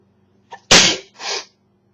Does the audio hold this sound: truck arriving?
no